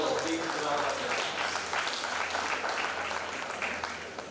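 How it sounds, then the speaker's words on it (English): Audience applause fills a national pharmacy conference hall, a steady dense patter of clapping that holds throughout at fairly even loudness, with some voices mixed in. "they deserve a big round of applause"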